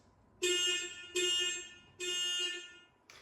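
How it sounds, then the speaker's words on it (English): A motorbike horn gives three loud, harsh blasts in a row, each held for about half a second with brief gaps, close by, followed by the start of a fourth. "there's the 3 beeps of the horn"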